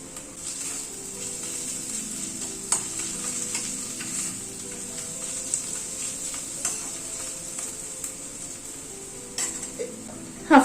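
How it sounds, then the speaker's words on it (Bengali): Ginger, garlic, onion and green chilli sizzle and fry in a pan while a spoon stirs them, producing a steady close hiss broken by scraping strokes and a few sharp clinks against the pan. "আদা রসুন পেঁয়াজ কাঁচা লঙ্কা সবগুলোকে একটু আবার মিনিট খানেক মতো একটু নাড়াচাড়া করে নিলাম"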